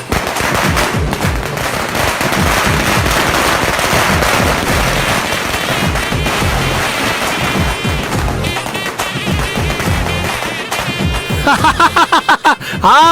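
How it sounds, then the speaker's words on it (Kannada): A long string of firecrackers crackles loud and continuous, a dense rapid barrage of pops that thins into separate sharp bangs near the end. "ಹಚ್ಚೋಡ ಪಟಾಕಿ"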